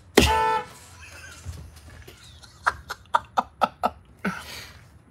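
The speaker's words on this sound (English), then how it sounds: "Somebody just honked back." A loud honk bursts out at the start, then a rapid series of short honking or clucking toots follows, with quiet background noise between.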